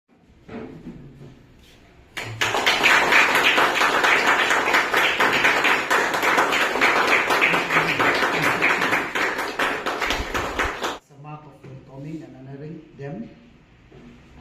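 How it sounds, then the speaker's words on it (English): A crowd at an association's annual general meeting opening ceremony bursts into dense, sustained applause of many hands for about nine seconds, loud and close, with talking before and after. "while they are opening the curtain, we will give a big round of applause"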